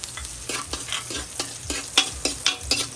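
Garlic sautéing in a pan for chop suey gives a steady sizzle, punctuated by rhythmic scraping strokes of a spatula roughly every quarter second, close and fairly loud.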